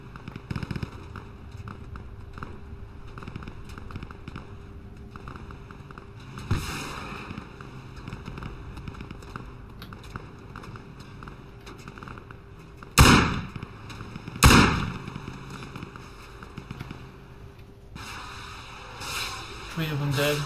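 Gunshots in the Project Reality military shooter game on the Basrah map, with a few sharp, loud cracks standing out over steady background ambience and quieter distant pops, while a voice talks at times.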